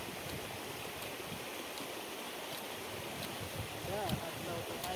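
A deep river swollen after a flood rushes in a steady broadband roar, with faint voices briefly audible toward the end.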